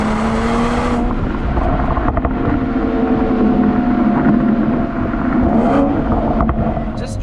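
A Mercedes-AMG E53 Cabriolet inline-six engine holds a steady, tonal hum while cruising, a smooth sustained drone under road and wind noise throughout, with a voice talking over it at moments.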